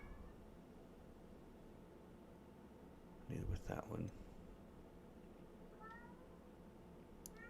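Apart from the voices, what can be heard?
pet cat meowing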